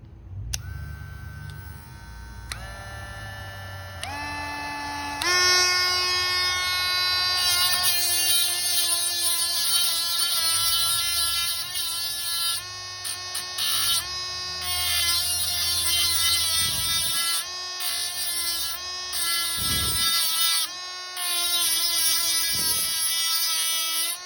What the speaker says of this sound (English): And this Dremel has 3 to 4 settings.